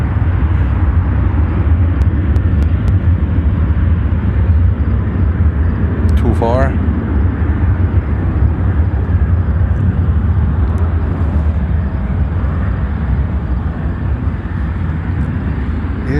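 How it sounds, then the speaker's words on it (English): A Boeing C-17 military transport rumbles past at Chicago O'Hare, a heavy, steady low-pitched jet roar filling the whole stretch at close range, with a brief chirping sound partway through. "See the C-17."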